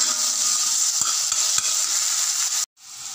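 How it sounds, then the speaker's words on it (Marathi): Onion and tomato fry together in a hot pan with a steady, loud hiss, broken by a few soft stirring knocks before the sizzle drops out briefly near the end. "कांदा आणि टोमॅटो एकत्र फ्राय करून घ्यायचं आहे."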